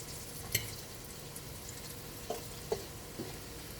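Vegan lupin croquettes fry quietly in a pan, a soft, steady sizzle hiss broken by a few faint pops and clicks.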